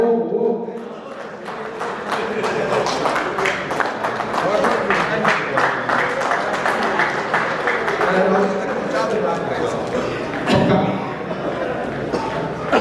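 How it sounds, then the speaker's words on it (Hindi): Audience applause at a Republic Day poetry recital in Riyadh, a steady dense wash of clapping from a large crowd lasting throughout, with a voice speaking over it and a brief louder burst near the end. "दुआएं बहुत चाहिए, तालियां बहुत चाहिए, बहुत शुक्रिया"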